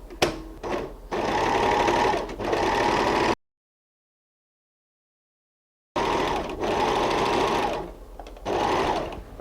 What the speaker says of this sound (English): I'm also sewing the bottom of my facing just with an overlocking stitch